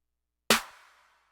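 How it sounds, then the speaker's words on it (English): A single layered snare and clap hit from the KN Beats Essentials kit, a sharp bright crack with a short decaying tail, heard once on its own against silence. "So together the snare and the clap sound like this."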